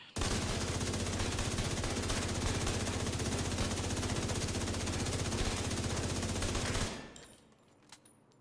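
An assault rifle fires in The Division 2 video game in a continuous loud burst of rapid automatic shots for about seven seconds, then the firing stops and a short ringing tail fades out.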